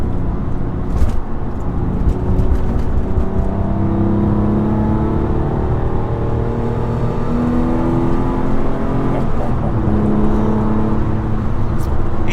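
Porsche 911 of the 996 generation accelerating hard on an open road, its engine note rising steadily and loud from up close, a continuous sustained drone with no talking.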